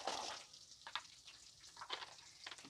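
Shallots and curry leaves fry in a pan for a Kerala-style chicken curry, giving a steady quiet sizzle with a few brief stirring scrapes, close by and alone.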